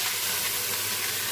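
Marinated chicken sautéing in a pan for Visayan-style chicken tinola, a steady, close sizzle and hiss of frying with no voices over it.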